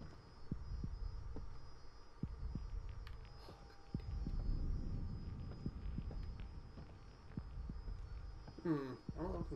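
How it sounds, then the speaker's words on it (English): Heartbeat sound in the video game The Evil Within 2, faint regular low thuds repeating steadily under a low hum, with a brief warbling tone near the end. "I hear a heartbeat."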